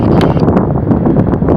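Strong wind buffets the microphone at the top of Eagle Rock near Donner Lake, a loud, continuous roaring rumble with gusty flutter throughout, no speech.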